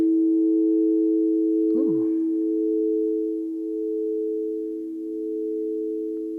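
A crystal singing bowl tuned to 432 Hz rings as a steady, sustained drone with layered overtones, swelling and easing gently in loudness. A brief struck accent sounds near the start, then the tone hums on alone.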